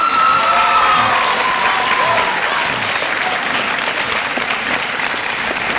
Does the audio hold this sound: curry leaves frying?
no